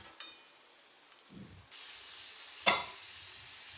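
Tomatoes and spices fry in hot oil in a pan for an eggplant bharta, a quiet sizzling hiss that swells after a stir, with a brief clink partway through.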